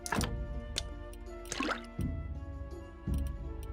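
Game sound effects of a bucket being filled with water in Graveyard Keeper: a few short wet splashes and drips in separate bursts over a steady musical background, fairly close and clear.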